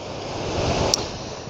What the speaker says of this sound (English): I'm hoping that you can hear the waves of the ocean in the background